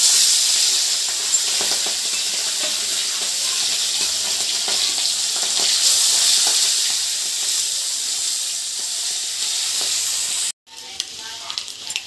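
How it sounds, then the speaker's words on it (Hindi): Prawns sizzle in hot oil with a little turmeric, a dense, even hiss that holds close and loud for most of the clip before a brief gap and a short rougher return. "अभी अभी हम प्रॉन्ग को तेल में डालेंगे।"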